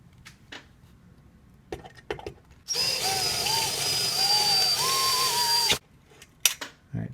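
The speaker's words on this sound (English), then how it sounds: "to use a drill bit that's slightly larger than the diameter of the rivet" A power drill whines steadily for about three seconds, its pitch wavering as it bites through a metal rivet on a pop-up camper trailer, with short clicks and taps before and after.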